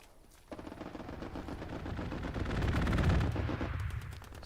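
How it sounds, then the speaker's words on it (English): A strafing aircraft sweeps over a trench line in Hell Let Loose at Kursk, its guns hammering in a fast, continuous rattle that builds in loudness and tapers off over several seconds. "Strafe run comes over, just barely misses a couple guys in the trench line."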